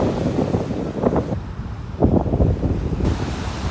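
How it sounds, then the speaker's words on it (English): Heavy surf pounds a reef during Hurricane Douglas, with two big crashing surges rolling in over a constant roar of wind buffeting the microphone. "The waves on the reef are pretty intense out there."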